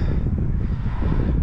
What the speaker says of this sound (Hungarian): Ez a szél, ez nem jön most jó